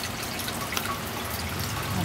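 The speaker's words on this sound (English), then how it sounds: "It's dripping" Warm summer rain dripping onto a camera in a light breeze: a soft, even hiss of falling rain with faint scattered drips close by, fairly quiet throughout.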